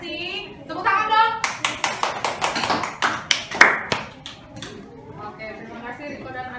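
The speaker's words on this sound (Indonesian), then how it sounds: "Tepuk tangan dong." Classroom applause from students, a quick burst of close, sharp claps lasting a few seconds, bracketed by a person talking before and after.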